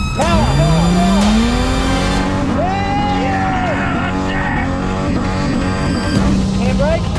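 A car revs hard and accelerates, its engine pitch sweeping up and down through a handbrake turn, loud and close, while people shout excitedly over the noise.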